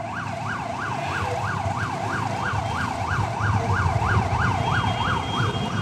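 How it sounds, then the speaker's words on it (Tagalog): A fire truck's wailing siren sweeps rapidly up and down in a steady, repeating cycle over continuous traffic rumble in a flooded city street, fairly loud and nearby. "Grabe naman yung fire truck na yan."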